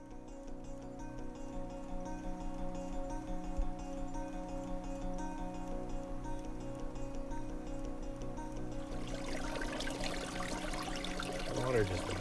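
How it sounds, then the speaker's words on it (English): Water bubbles up from the ground into rock along a rough trail in Great Basin National Park, a steady trickling gurgle running throughout, close and fairly loud, with brighter splashy detail in the final seconds. "Water just bubbling up out of the ground right into this rock."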